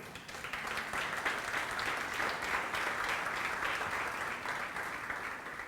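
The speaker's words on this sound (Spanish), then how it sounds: "Los recibimos con un aplauso, por favor." A church congregation applauds steadily for several seconds at a Sunday service, a dense even wash of clapping heard from within the room.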